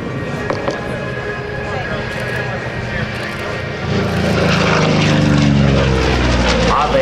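An FG-1D Corsair propeller fighter plane drones overhead at an airshow, its engine note rising and growing louder as it passes close by, with a steady buzzing hum throughout.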